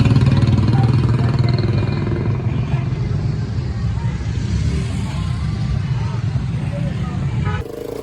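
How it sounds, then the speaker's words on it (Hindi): A motorcycle engine runs with a steady, loud mid-range drone behind a busy Eid market scene, holding nearly constant before cutting off near the end. "और पीछे मोटरसाइकिल है"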